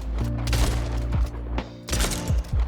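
Shotgun blasts in the arena shooter Splitgate: several heavy booming shots in quick succession, loud and close, each with a short decaying tail.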